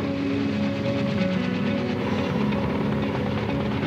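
Steady, loud drone of a K-MAX helicopter flying overhead, a continuous rotor hum and whine with no pauses.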